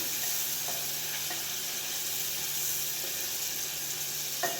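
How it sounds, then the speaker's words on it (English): Meat fries in a cooking pot for pilau rice, giving a continuous soft sizzle with occasional light stirring clicks and a faint scrape near the end. "we are going to cook our meat until it has cooked properly."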